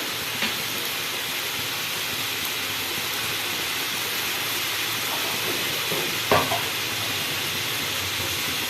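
A pan of eggplant, potato and khoira fish bori fries under a lid with an even, moderately loud sizzling hiss. A couple of short knocks break the sound.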